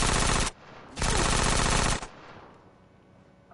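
Automatic gunfire in GTA San Andreas, with two loud, dense bursts of rapid shots separated by a short pause, a fading tail, and a final burst beginning at the end.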